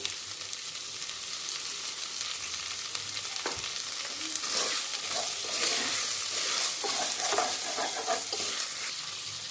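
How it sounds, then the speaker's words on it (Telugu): Potatoes with salt frying in oil in a pressure cooker, giving a loud, steady hiss and sizzle with stirring scrapes and a knock, the sizzle swelling as the pieces are tossed. "పొటాటో మొత్తం వేసేద్దాం వేసుకొని వేపుకుందాం"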